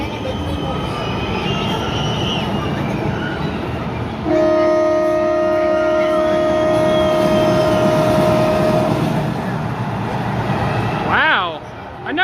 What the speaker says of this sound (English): Wow, I never heard the horn around this section.